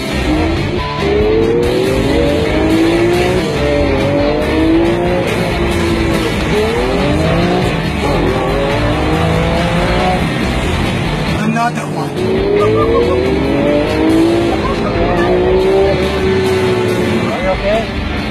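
A Lamborghini sports car revs and accelerates hard with tire squeal and engine roar heard from inside the cabin, loud and sustained, while people talk over it.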